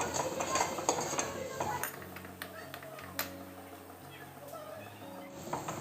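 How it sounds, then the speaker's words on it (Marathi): Spices are stirred and sautéed in a pan on medium flame for Kolhapuri misal, with clinking metal spoon taps and scraping against the pan, busier at first and then quieter. "मसाले हे छान परतून घ्यायचे आहेत."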